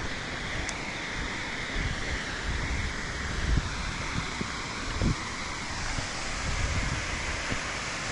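Heavy rushing water from a large waterfall near the ocean, a steady broadband roar with wind buffeting the microphone and a few low thumps, continuous throughout with no talking.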